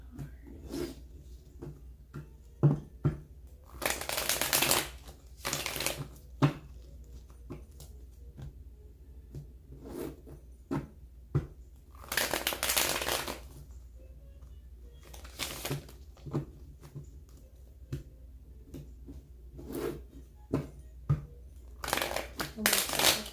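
Intermittent bursts of tarot card shuffling and riffling, with quieter rustling and handling noises between them, close by.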